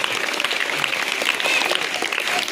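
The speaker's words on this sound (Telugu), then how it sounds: "గట్టి క్లాప్స్ కొట్టాలా" A school prize-giving crowd claps steadily, a dense, sustained round of applause that holds at an even level from start to finish.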